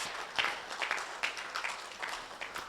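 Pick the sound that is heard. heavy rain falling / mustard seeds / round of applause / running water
round of applause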